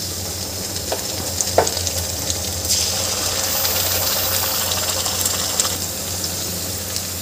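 Ground masala paste frying with onions already browned, a steady low sizzle in a pan with a few faint scrapes of stirring across about seven seconds, no voices.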